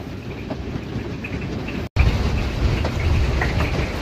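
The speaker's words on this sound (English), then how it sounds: "It's hailing on my car." Small ice balls of hail pelting a car during a thunderstorm, a dense, continuous patter and drumming heard from inside, steady throughout apart from one brief cut.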